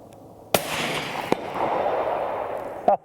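A suppressed rifle firing 168 grain Federal match ammunition at dusk, fitted with an ATN X-Sight day/night scope, gives two sharp, loud cracks about a second apart with a decaying rumble, then a further quick pair of reports near the end.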